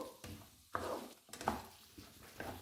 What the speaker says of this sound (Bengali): আলুটা একটু হালকা ফ্রাই করে নেব।